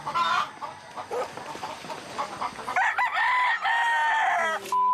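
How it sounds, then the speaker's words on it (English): Chickens on a Philippine banana and pineapple farm cluck nearby, then a rooster lets out a loud, drawn-out crow near the end. "Chicken."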